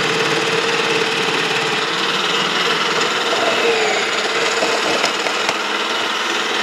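A mixie grinder fitted with a cutting attachment chops carrots for a stir-fry, a loud continuous whirring motor drone holding steady with faint rattling, no talk.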